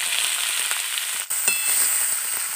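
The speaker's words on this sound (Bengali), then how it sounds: "তেল গরম হয়ে গেছে, তেলের মধ্যে দিয়ে দিব পেঁয়াজ কুচি।" Chopped onion dropped into hot oil in a kadai on a stove sizzles loudly and steadily, a bright continuous hiss with a brief sharp crackle as the pieces hit the pan.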